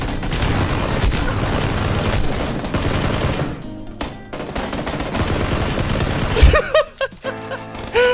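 Dense, rapid automatic gunfire from a PC shooter game rattles loudly and continuously for several seconds, then thins to a few scattered heavy shots and bursts near the end.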